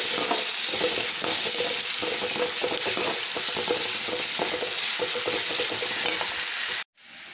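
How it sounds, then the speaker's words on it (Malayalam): Onions and curry leaves crackle and sizzle loudly in hot oil during tempering for a Kerala sardine coconut-milk curry in a clay pot, a dense continuous frying hiss up close that cuts off abruptly near the end. "ഇനി നമുക്ക് ഉള്ളിയും വേപ്പലയും താളിച്ചിടാം."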